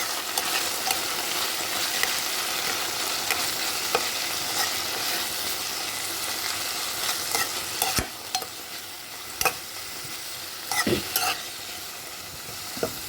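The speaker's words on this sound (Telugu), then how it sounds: "ఇది చక్కగా 2 నిమిషాల్లోనే వేగిపోతుంది." Mint leaves (pudina) fry in a pan, giving a continuous close sizzle broken by occasional clanks and scrapes of a spoon stirring them.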